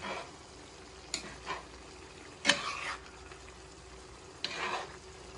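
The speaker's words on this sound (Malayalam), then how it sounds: "ഇത് നന്നായിട്ട് മിക്സ് ചെയ്തിട്ട് ഇനിയൊന്ന് അടച്ചു വെച്ചിട്ട് കംപ്ലീറ്റ് ആയിട്ടൊന്ന് കുക്ക് ചെയ്യാം" Chicken with ginger, garlic and green chilli sizzles in a pan for a Kerala chicken roast, with a soft constant fry broken by a few distinct stirring scrapes, close by.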